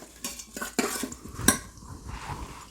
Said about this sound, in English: So just give a quick stir